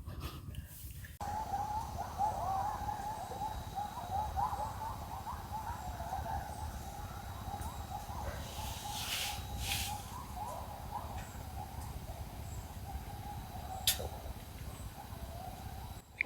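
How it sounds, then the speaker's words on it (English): Coyotes howl at night near a snowy winter hot-tent camp, a faint, distant wavering wail that carries steadily through quiet surroundings, with a few brief clicks and rustles nearby. "Coyotes are awake."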